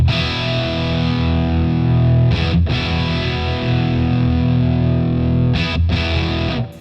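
An electric guitar runs through a Boss DS-1 distortion pedal with its tone knob turned fully down, giving a dark, muffled, sustained distorted chord that rings loud and close, broken twice by brief restrikes.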